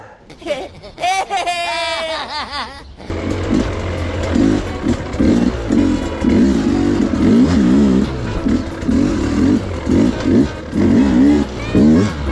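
A 2025 Sherco SE300 Factory two-stroke dirt bike engine surges in repeated loud, uneven revs from an accidental whiskey throttle, following a brief high vocal sound at the start.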